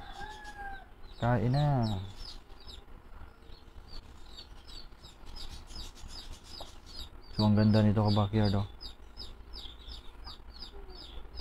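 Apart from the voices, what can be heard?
frizzle chickens clucking in backyard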